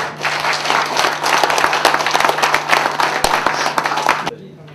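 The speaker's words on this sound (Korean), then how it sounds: "뜨거운 박수 부탁드립니다." An audience claps at the close of an event held by an international green climate association, brisk dense applause that stops abruptly near the end, with a low steady hum underneath.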